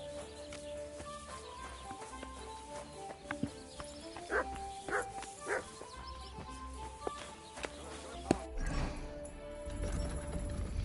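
A dog in the medieval role-playing game Kingdom Come: Deliverance 2 gives a few short barks mid-clip, mixed with the clopping of horse hooves and busy game ambience.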